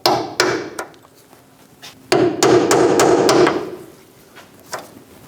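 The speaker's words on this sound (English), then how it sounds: "I'm going to grab a small punch and get right on the back side of that dimple. We're going to pop it out." Hammer blows drive a small punch against a bracket dimple on a Chevrolet Express 2500 parking brake cable, a few sharp metallic strikes then a rapid run of close taps ringing over a short rattle.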